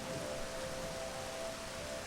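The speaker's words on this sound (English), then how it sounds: "the sky has opened up and torrential rains are soaking the parched earth" Torrential rain pouring over parched outback earth, a steady dense hiss of downpour filling the scene at moderate level, continuous and unbroken with no voices.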